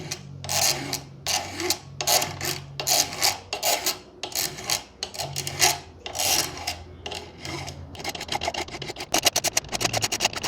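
A metal file rasps back and forth over protruding pins on a car lock cylinder held in a vise, with steady repeated strokes close up that quicken toward the end.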